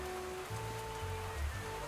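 Steady rain falls in the video game Ducktective, a continuous wash of patter close by with a few low tonal game sounds layered underneath, no voices.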